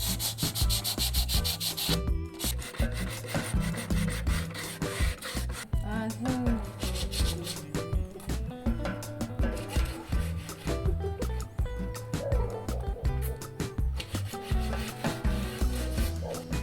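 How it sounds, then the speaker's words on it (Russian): Sandpaper rubs by hand across an old wooden table to strip varnish, making continuous rough back-and-forth scraping strokes, close and fairly loud, with music playing underneath. "С помощью наждачной бумаги я сниму старый лак с поверхности стола."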